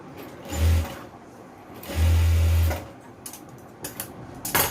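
A sewing machine stitches the folded edge of a simple frock in two short runs, one brief and one longer, separated by quiet handling clicks.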